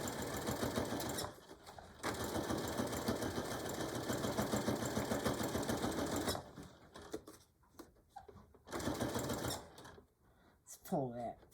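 A sewing machine runs in steady bursts while back stitching a beach or diaper bag seam, with a short pause near two seconds and a longer break after six, then more stitching; a voice speaks briefly near the end.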